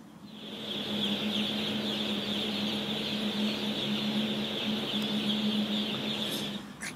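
A dense, continuous chorus of many poultry birds fills an enclosed space, a constant clucking, chirping din with a steady hum underneath.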